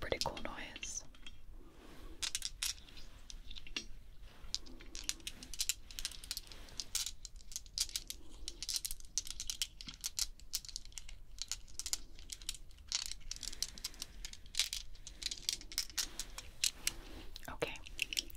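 Bloodstone dice clatter and click repeatedly in small tumbling bursts, close and crisp, with faint whispering between the rolls.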